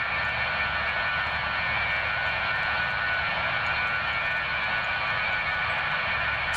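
Steady, loud drone of the BAe 146's small jet engines in the X-Plane 11 flight simulator, a constant whine and rumble that holds evenly throughout with no talking.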